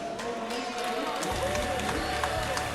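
A crowd at a Granblue Fantasy Versus: Rising esports tournament cheers and claps for the players, a busy roar of voices and scattered claps, with an announcer talking over the noise.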